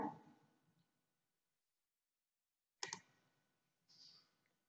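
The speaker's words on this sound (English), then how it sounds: "I'm clicking on that." A computer mouse clicks while a syllabus file is uploaded to Google Classroom: a few sharp, close clicks spaced apart in a quiet room after a fading sound at the start.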